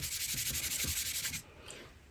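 An embossing buddy rubbed briskly back and forth over card stock, making a rapid, even scratchy swish for about a second and a half before stopping, then a faint rustle, close up and quiet.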